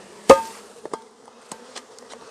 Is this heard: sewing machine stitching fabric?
no